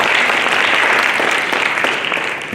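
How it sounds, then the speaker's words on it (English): Parents and guests at a school's college planning night applaud loudly, a thick continuous patter of many clapping hands that stays strong for about two seconds before tapering off slightly at the end. "Let's give them a round of applause."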